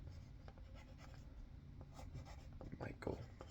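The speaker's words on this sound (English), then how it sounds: "I'll write their names." Pen or pencil scratches and rubs across paper as names are written out by hand, soft close-up strokes in short bursts, with faint quiet talk underneath.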